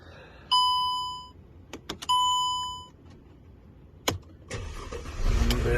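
A Mercedes W204 fitted with an ESL emulator gives two sustained electronic chime tones and a few clicks, then its engine cranks and catches, settling into a steady, rising idle rumble at the end.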